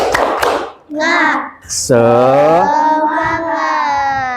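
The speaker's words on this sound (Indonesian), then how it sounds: "mari kita awali dengan tepuk semangat terlebih dahulu" Children in a classroom do a quick rhythmic spirit clap, sharp hand claps at the start, followed by voices loudly chanting together.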